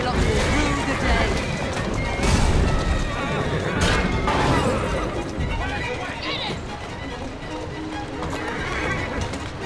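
Horse-drawn carriages gallop through London streets in Assassin's Creed Syndicate, with loud, continuous clattering hooves, whinnies and rumbling wheels mixed with crashes, while voices talk over the chase.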